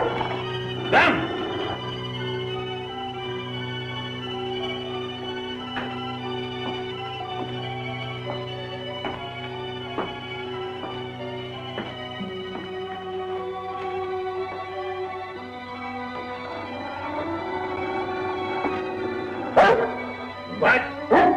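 A dog in a 1939 Wuthering Heights film scene gives a few sharp barks near the start and a louder flurry at the end, set against a sustained orchestral score with people speaking.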